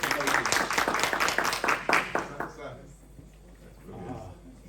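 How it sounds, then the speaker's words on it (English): A small crowd at a business pitch event claps together for a couple of seconds, close and lively, then the clapping fades into a quiet room with faint murmuring. "Let's put our hands together."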